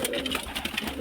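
Kalpeti pigeons coo softly in a short, steady burst with no talking, heard close by.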